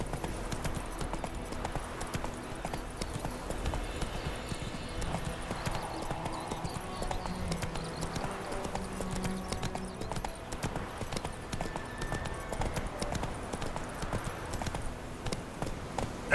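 Horse hooves from The Witcher 3 clatter in a steady clip-clop gallop, continuous and close throughout over a dense game soundscape of ambient music and effects.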